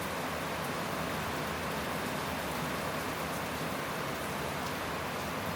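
Heavy rain pours down on a leaking roof, a loud, even rush of water with no pauses from start to finish.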